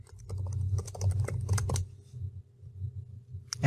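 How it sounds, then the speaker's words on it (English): Rapid keystrokes on a computer keyboard while a password is entered, a quick close run of clicky taps for under two seconds, then a pause and one last key press. "type in a password"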